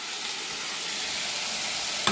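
Chicken pieces being stirred through hot oil in a pan, a steady close sizzle with soft scraping of the spoon running throughout, ending in a brief sharper clink.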